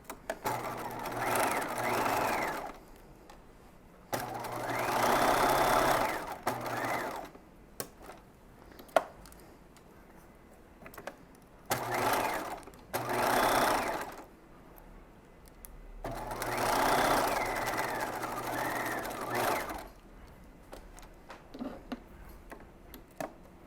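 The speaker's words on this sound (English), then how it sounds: "I'm going to sew these seams. And here I'm going to use that narrow zigzag again." A home sewing machine sews dress seams with a narrow zigzag stitch in several separate runs of a few seconds each, with quiet pauses and fabric handling between them.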